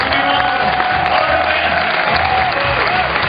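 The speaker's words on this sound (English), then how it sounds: "Huge round of applause for Rei Sugimoto there." An audience at the men's bouldering final of the 2012 Climbing World Cup in Vienna applauds in a sustained, dense wash of clapping with scattered cheers, steady and fairly loud throughout.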